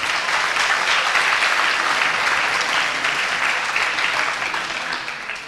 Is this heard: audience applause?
yes